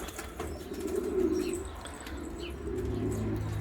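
Pigeons, a yellow pied silver-tail among them, coo in a low, steady murmur close by, with faint chirps and a brief flutter of wings over the top.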